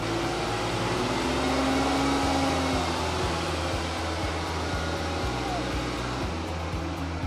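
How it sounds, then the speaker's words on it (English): A car engine is revved and held at about 2500 RPM during a battery ripple test, giving a loud, steady, close mechanical roar that barely changes for several seconds. "Now it says increase the RPMs to 2500 and keep it there for 5 seconds. So we'll rev this."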